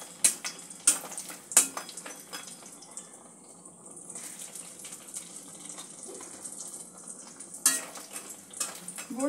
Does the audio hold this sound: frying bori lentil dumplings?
yes